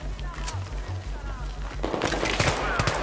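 Sustained automatic gunfire in the video game Battlefield 3, with rapid rhythmic bursts under low game sounds that grow denser and louder toward the end, with voices talking in the background.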